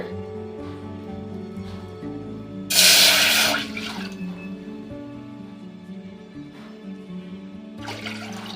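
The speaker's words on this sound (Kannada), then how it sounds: "ಆ ಕಪ್ಪಿಲೆ ಎರಡು ಕಪ್ ನೀರು ಹಾಕೊಳ್ಳೋಣ" A short burst of water pours into a vessel for about a second, loud and splashy, over a quiet background hum with faint clinks.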